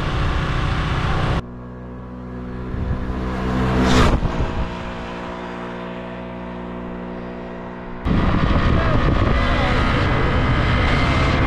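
A car driving on roads in Sicily, with loud cabin rumble and wind noise that drops to a quieter hum mid-clip before a sudden return to full road roar.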